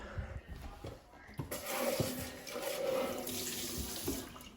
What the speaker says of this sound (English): there's often milk or something inside, so I'm going to rinse that out